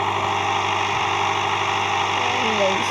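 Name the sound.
scooter engine idling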